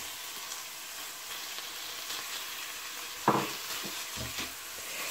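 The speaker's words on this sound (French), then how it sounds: "Là, je vais ajouter la viande hachée." Ground meat and garlic sizzle and hiss steadily in a hot pan, with a brief louder clatter of stirring partway through and a few softer scrapes after.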